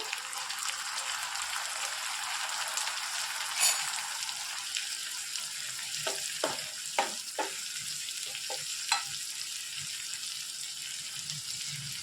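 Brinjal curry with green peas and chopped tomato fries in a pan as it is stirred. A constant bright sizzle runs throughout, with a cluster of light spoon taps and clicks in the second half.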